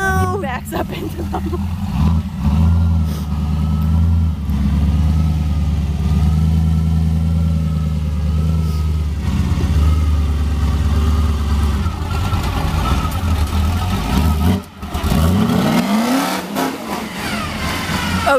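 A truck engine revs hard and holds a loud, steady roar as it backs up, with the pitch shifting briefly near the end, while several people talk over it.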